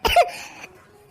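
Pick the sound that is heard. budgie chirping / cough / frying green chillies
cough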